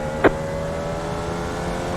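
A race car engine in the iRacing simulator drones steadily during a road race. A short, sharp burst is heard early on as another car passes close by.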